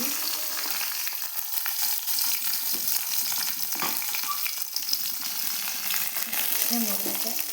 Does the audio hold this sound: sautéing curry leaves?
yes